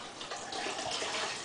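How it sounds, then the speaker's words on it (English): Rum pours into a coquito mixture, a soft, quiet splashing trickle of liquid running continuously for a moment, close by with no voices. "I'm going to pour the rest of this rum in here."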